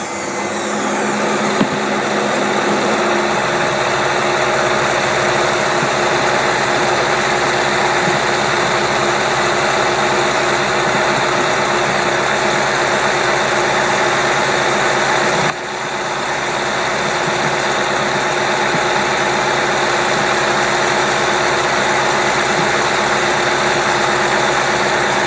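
Engine idling on Carter AFB dual-quad 500 cfm carburetors at about 800 RPM, a steady close mechanical drone with even pulsing that runs for the whole stretch with one brief dip.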